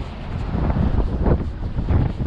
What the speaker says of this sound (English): It really is windy